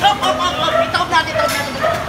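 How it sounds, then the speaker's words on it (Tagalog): A dog gives several quick barks and yips amid street noise, while people chatter in the background. "May aso dun, oh."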